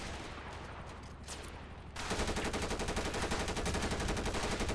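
Rapid sustained gunfire from a turret gunner battle in GTA 5, starting moderately then jumping louder about two seconds in and continuing as a dense, steady stream of automatic shots.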